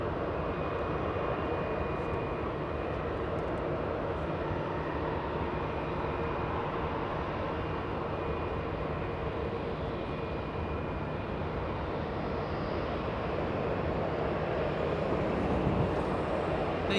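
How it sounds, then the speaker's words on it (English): A DHL Boeing 737 cargo jet flies in toward LAX, a steady, moderately faint engine rumble and rush with a thin high whine, heard alone. "DHL flying in from Phoenix, Arizona"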